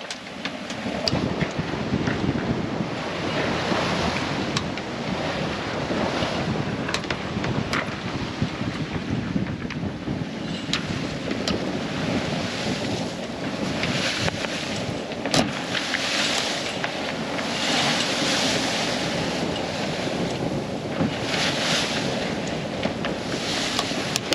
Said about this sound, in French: Là clairement il n'y a pas 3 nœuds de vent, il y a 20 nœuds.